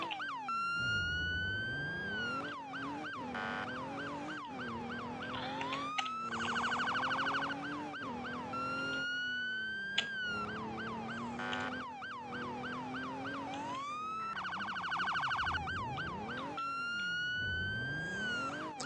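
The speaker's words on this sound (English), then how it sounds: "There we go, and put sirens on." A police car siren wails continuously in a video game, cycling through rising and falling wail and rapid yelp patterns that repeat loudly for the whole stretch. An engine drones underneath.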